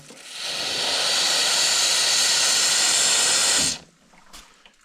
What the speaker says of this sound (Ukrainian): Так само перевіряємо кран кипятка.